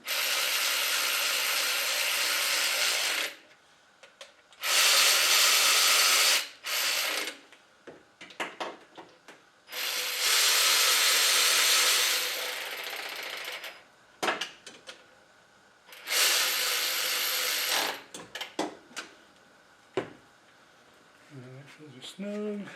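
Bolts are tightened on a Toyota Prius engine during head gasket work, with several bursts of loud, harsh ratcheting or power-tool whirring separated by short metallic clicks and clanks at close range, and a voice speaking briefly between them.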